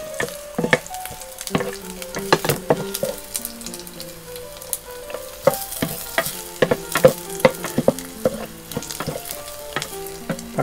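Garlic sizzles and fries in a hot pan for a Thai-Chinese oyster omelet, a steady crackling hiss with scattered sharp pops and utensil taps throughout, close and fairly loud, with no talking.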